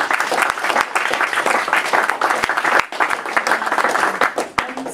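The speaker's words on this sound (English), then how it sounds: "let's have another round of applause for all of our fantastic speakers tonight" An audience claps warmly for the evening's speakers at a talk event, a dense, even patter of many hands with a few sharp individual claps standing out near the listener.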